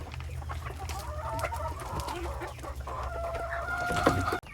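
Backyard free-range chickens cluck steadily near at hand, with a rooster crowing partway through over a low, constant background hum.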